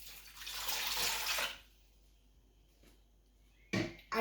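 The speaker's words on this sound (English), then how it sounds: "So now we're gonna put a whole bottle of water," A whole bottle of water is poured into a cooking pot for chicken rice: a loud, hissy gush for about a second and a half, then quiet, then a brief second splash near the end.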